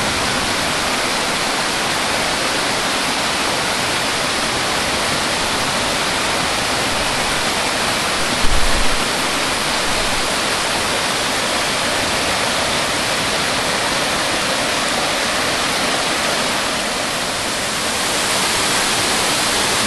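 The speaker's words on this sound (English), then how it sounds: "Beautiful waterfalls." A steady, loud rush of falling water roars without pause at waterfalls on Turkey Path in Pennsylvania's Big Ditch, a dense broadband wash with one brief thump partway through.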